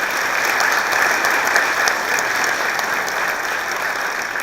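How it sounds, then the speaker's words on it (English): A large audience at a Children First distinguished leadership award ceremony applauds the staff with steady, dense clapping that holds at an even level throughout. "Let's give the whole staff a big round of applause"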